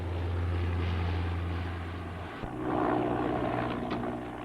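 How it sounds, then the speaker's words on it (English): A propeller aircraft engine drones close by at the 1976 Farnborough air show, a low steady hum that shifts pitch and swells as the plane taxis back along the landing strip. "On landing, the plane can reverse back to the end of the landing strip, ready for takeoff."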